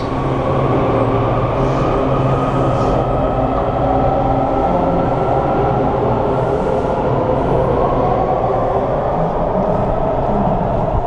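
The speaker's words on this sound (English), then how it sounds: "And there that train goes up into Maryland after this." A Washington, D.C. subway train departs toward Maryland, rumbling steadily and loudly throughout, with a continuous roar of wheels on track and faint squeals above.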